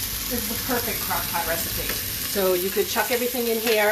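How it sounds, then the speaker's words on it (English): Beef and vegetables browning in a pot for chili, a continuous hiss and sizzle with occasional stirring, heard under a person talking. "if you want to brown your meat and brown your vegetables in a pot like this"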